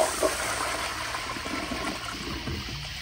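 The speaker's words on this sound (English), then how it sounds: "Here is a flush." A 1992 Kohler Kingston Waterguard toilet flushing with the water pressure turned up, a loud steady rush of water that runs throughout and ends in gurgling as the bowl siphons, with no voices.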